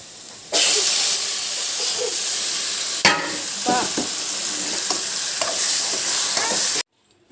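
Gongura leaves drop into a hot pan with cumin and urad dal, bursting into a loud sizzle, then spatula scrapes and stirring strokes rattle through the steady frying hiss before it cuts off abruptly.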